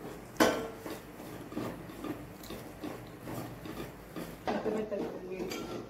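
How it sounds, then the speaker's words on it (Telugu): Ghee being stirred into dates in a pan on a stove, heard as soft scraping and clinking of a spoon against the pan with a few sharper knocks, fairly faint against background noise. "నెయ్యి వేసి కలుపుకోవాలి గైస్"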